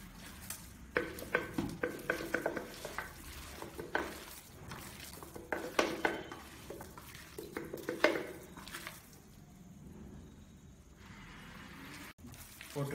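Thick panchakavya mixture worked by hand with half a litre of ghee, giving repeated close squelching, stirring and slapping bursts in an irregular rhythm that fade toward quieter handling near the end.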